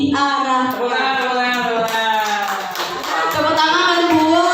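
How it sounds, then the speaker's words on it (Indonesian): Applause from an audience during an Indonesian teachers' training session, with steady clapping throughout, close and fairly loud, and a clear voice speaking or singing over it for most of the clip. "Tepuk tangan buat Pak Haris."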